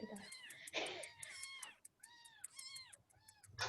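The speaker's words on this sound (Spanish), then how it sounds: "¿Estoy escuchando gatos?" Several cats meow repeatedly in a row, rising and falling cries with short gaps, heard fairly close but somewhat faint, with a brief voice in the background.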